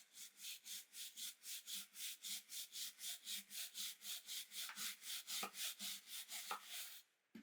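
A brush scrubs a horse stirrup clean in about two dozen quick, rhythmic back-and-forth strokes, a close, crisp scratchy rasp that stops abruptly at the end.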